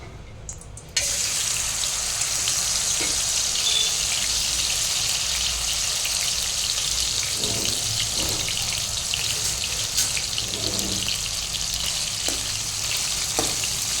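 Fish, a Vonkaya Boomidhi, sizzling as it fries in a pan: a steady, bright hiss of hot oil running throughout, with occasional soft pops and crackles.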